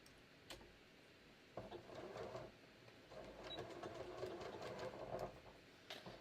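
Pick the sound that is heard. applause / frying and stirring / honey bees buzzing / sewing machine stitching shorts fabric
sewing machine stitching shorts fabric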